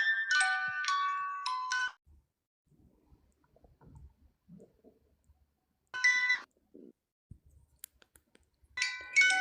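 A mobile phone ringtone goes off during a paranormal investigation in a house, sounding in three bright, tonal, melodic bursts at the start, middle and end, with near-silence and faint shuffling between them.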